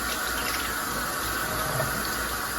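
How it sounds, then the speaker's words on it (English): Water runs steadily from a tap while plant propagation cuttings are rinsed off, a constant close hiss of flow with no voices. "I just kind of rinse them off really good."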